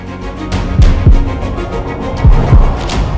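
A human heartbeat, deep low thumps arriving in paired beats at a steady rhythm, loud and close with a faint hum underneath.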